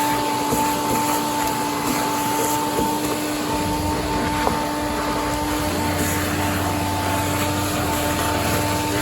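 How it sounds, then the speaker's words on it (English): Vacuum cleaner running close by while cleaning the chassis of a 1960s Ski-Doo Twin-Track snowmobile, a loud, steady whining roar with constant tones that holds throughout, no voices over it. "I'm gonna vacuum the front of the chassis here"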